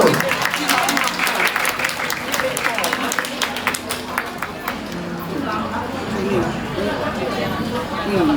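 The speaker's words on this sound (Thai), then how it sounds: "ขอเสียงปรบมือกับคุณแจ็คหน่อยเร็ว" A crowd claps in a steady burst of applause while voices chatter and call out over it.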